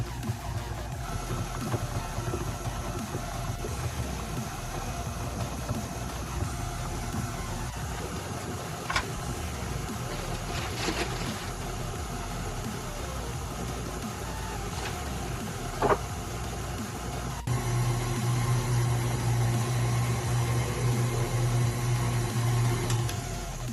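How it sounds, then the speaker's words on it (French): A stand mixer fitted with a paddle beats butter and flour on first speed into a sandy crumb for lemon meringue tart pastry. Its motor gives a steady, continuous hum that grows louder and rougher partway through. "La feuille, c'est ce que j'ai mis sur mon batteur, donc c'est ça. Et on va le mélanger pour exécuter un sablage"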